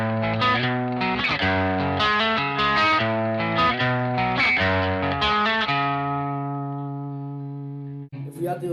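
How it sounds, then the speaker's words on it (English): Electric guitar through a Super Overdrive pedal playing an arpeggiated riff, a steady driven picked pattern that ends on a long sustained chord, with a brief noise at the very end. "With the overdrive pedal, this is how it sounds."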